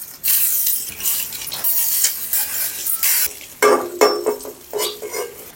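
Halved boiled eggs frying in oil with turmeric and chili powder, producing bursts of bright close sizzle and spatter, with spoon scrapes and clinks against the pan and no speech.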